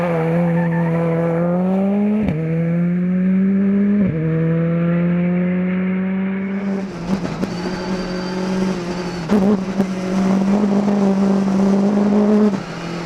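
A Skoda rally car races along a tarmac stage at the Rallye International du Valais, its engine held loud and close in a steady drone that dips sharply at gear changes around two and four seconds, then grows rougher and busier.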